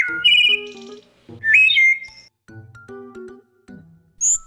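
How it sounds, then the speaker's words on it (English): A tit calls in repeated bright whistled notes, clear two-part phrases spaced out by short pauses, close and distinct with no one speaking. "Tit."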